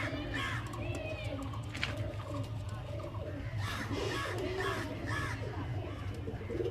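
Flying pigeons kept for racing and sale coo and stir close by, with soft overlapping bird calls, an occasional crow-like caw and faint background murmur throughout.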